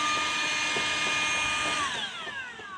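Two battery-powered leaf blowers, a Milwaukee 3017-21HD and a DeWalt, run together with a steady loud whine and airy rush, the pitch sliding downward near the end as one spools down.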